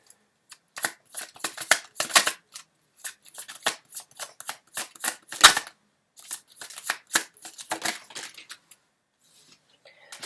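Tarot cards shuffled and handled on a table, a long run of quick dry riffling and slapping bursts, close and fairly loud, with pauses between.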